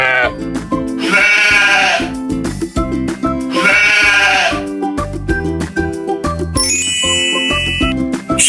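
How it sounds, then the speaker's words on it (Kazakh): A sheep bleats in two wavering calls, each about a second long, set against a cheerful children's song with tinkling bell-like notes throughout. "ол мә дейді."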